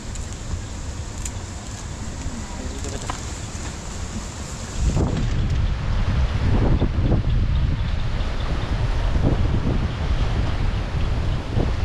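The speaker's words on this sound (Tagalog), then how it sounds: "Sobrang lakas po ng hangin dito." Strong wind roars and buffets the microphone continuously, growing louder and gustier partway through, with heavy low rumbling gusts and no voices.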